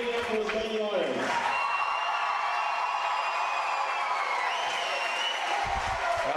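Home crowd cheers and claps at a high school volleyball first-round match between the Canton-Galva Eagles and Minneapolis Lions, a steady wash of applause filling the gym beneath an announcer's voice.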